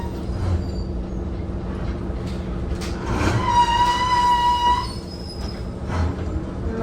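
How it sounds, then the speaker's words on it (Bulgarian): Tram 509 on Sofia's line 8 squeals loudly through the junction with Konstantin Velichkov Boulevard. A steady, piercing metal-on-rail screech rises over the rumbling wheels and fades after a couple of seconds, with no voices. "Много скърца, пак ви казвам, но за феновете на български трамваи е топ звук."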